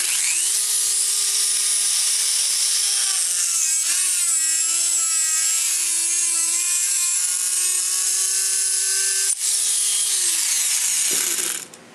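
A Dremel rotary tool cuts into a computer case with a loud, high-pitched whine that holds steady for several seconds, dips briefly under load, then spins down at the end.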